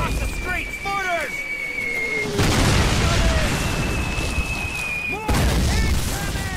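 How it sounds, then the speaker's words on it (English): Mortar shells burst in a World War II street battle in Call of Duty, heavy booming blasts coming in two big waves with rumbling debris between them, while soldiers shout over the barrage. "Mortars!"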